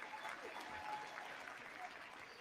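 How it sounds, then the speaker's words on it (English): Applause fills the House chamber after a nominating speech, a steady roomy wash of many hands clapping heard at a distance, with faint voices mixed in. "let's watch the round of applause for that incredible speech by Pete Aguilar nominating Hakeem"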